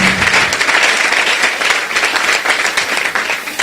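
Church congregation applauding in praise of the Lord during a deliverance testimony, dense steady clapping from a full crowd, loud and continuous throughout.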